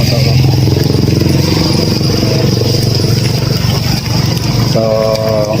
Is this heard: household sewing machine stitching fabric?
no